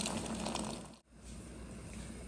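Boiling hot water poured from a pot in a home kitchen, a soft continuous gushing splash with a brief break partway, fairly quiet and close.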